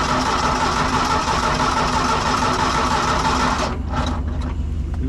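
A broken tractor's starter cranks in a loud, continuous mechanical whir with a rapid rhythmic chug, then cuts off abruptly and leaves a lower residual rumble.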